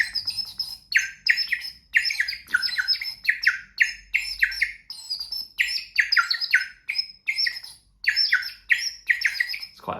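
A shrill hand-painted bird water whistle, blown without water, sounds in short repeated bursts, chirpy warbling trills with brief gaps between them, bright and close.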